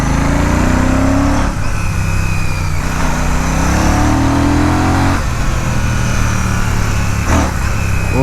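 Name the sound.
Royal Enfield Classic 650 parallel twin motorcycle engine while riding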